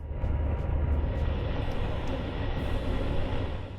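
An SJ night sleeper train runs along a quad-tracked Swedish main line near Lund, heard from inside as a steady low rumble with faint rhythmic clicks over the rails and no voices.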